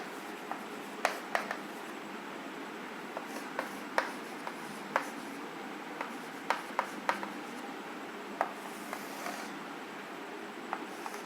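Handwriting a chemistry equation, with a pen scratching and tapping on paper up close in short irregular strokes and small clicks, steady and fairly quiet with no talking.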